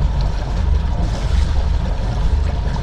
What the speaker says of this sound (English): now I'm gonna take it right down to clutch, take some more speed off.